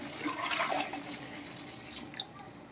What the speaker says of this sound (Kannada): ಸೊ ಬಿಸಿನೀರು ಹಾಕ್ಕೊಬೇಕು.